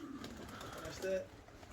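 Pigeons coo softly in the background of an outdoor fruit spread, low murmuring calls under nearby conversation and occasional voices.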